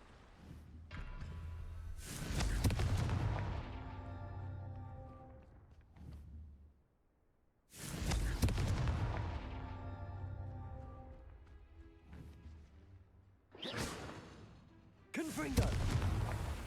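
Confringo fire spell explosions in the Hogwarts Legacy video game: several loud booming blasts burst out at intervals, each decaying into a rumbling tail, with quieter gaps between them.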